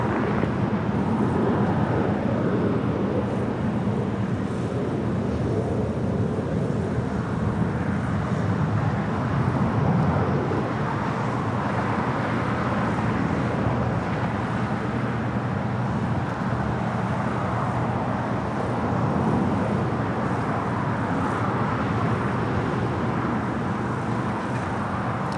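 An airliner's jet engines roar steadily during takeoff from runway 25 right at LAX, a broad continuous rumble heard from a distance, blended with wind noise.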